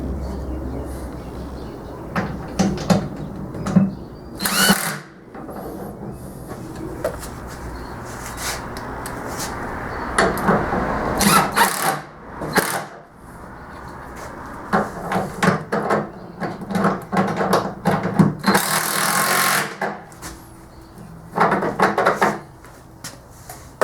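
Lag screws 1.25 inches long are driven into a wooden shop cart, with irregular knocks, thumps and wooden clatter coming in bursts, separated by quieter pauses and a low background hum.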